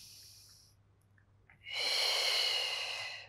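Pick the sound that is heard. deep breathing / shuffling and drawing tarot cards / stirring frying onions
deep breathing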